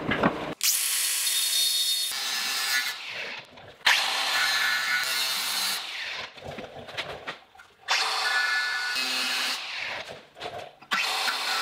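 Power tool cutting through a steel boat trailer axle, loud grinding bursts of a few seconds each, stopping and restarting several times with brief pauses between cuts, close up.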